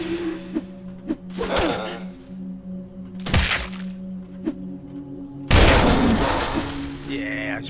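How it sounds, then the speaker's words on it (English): A poison bomb explodes in the Gorgon pushblocks game with a loud, sustained burst near the end, preceded by several dull thunks and softer blasts, with speech in between. "Time for another poison bomb."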